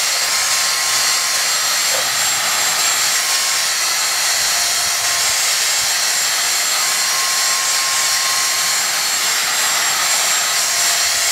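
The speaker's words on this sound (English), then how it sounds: "try to pick it up using this vacuum" A vacuum cleaner sucks up dust residue from a floor while a brush rubs it, a steady loud whooshing motor roar that holds constant throughout.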